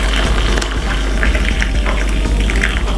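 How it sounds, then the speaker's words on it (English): Hot water pours steadily into a glass for cinnamon tea, a continuous close rushing and splashing gush that lasts about three seconds with no talking. "what I'm going to do is pop some hot water in the glass like this"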